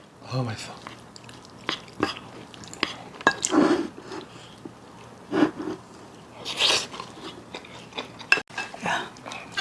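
Close chewing and biting on Korean home-cooked side dishes such as steamed anchovy perilla leaves, stir-fried peanuts with dried pollock and a pork eggplant rice bowl, with scattered soft crunches and wet smacks between brief quiet speech.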